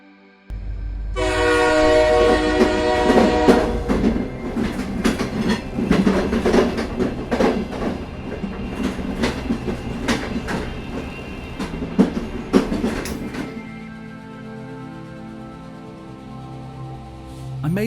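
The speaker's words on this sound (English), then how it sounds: "I made my way to Horton Plains by train, choosing the Highland Railway" A train on Sri Lanka's Highland Railway in the central highlands rolls along the tracks with steady rumbling and rhythmic clicking of wheels, a long horn blast sounding over it before the noise settles lower.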